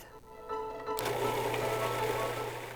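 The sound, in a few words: food processor or blender blending strawberries, sugar and cream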